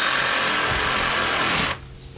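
A cordless 20V reciprocating saw buzzes loudly and steadily through a maple sapling growing between grates, its rasping cut running continuously before cutting off abruptly near the end.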